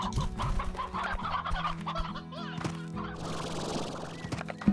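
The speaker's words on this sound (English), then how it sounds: "Surprisingly, there are more and more chicken." Chickens clucking in the video game Slime Rancher, several close clucks and squawks in irregular bursts over a steady low background hum.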